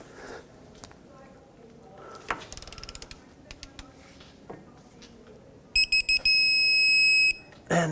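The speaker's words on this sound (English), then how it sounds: "I have my torque wrench set to degrees, but again, a quarter of a turn." A torque wrench on a 2007-2009 Saturn Aura front control arm bolt: scattered ratcheting clicks build to a quick run of clicks, then a loud sustained electronic beep near the end.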